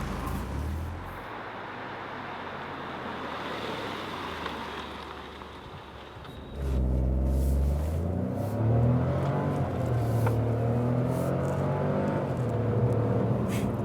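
A 2017 Smart Brabus fortwo or forfour cruises the Autobahn with its roof closed. Steady road and wind noise and a low engine hum are heard inside, then the engine note swells noticeably louder partway through as the car accelerates, with no talking.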